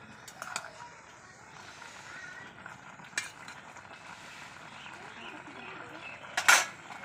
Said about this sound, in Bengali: তো এই যে শাকটা নরম হয়ে গেছে, তো আমি একটু নাড়াচাড়া করে দিচ্ছি।